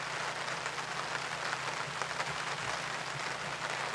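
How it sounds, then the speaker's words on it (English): Heavy rain pours down steadily at a lake during a fishing session, a dense, constant hiss of drops hitting surfaces close by with no breaks and no voices. "Pouring down with rain."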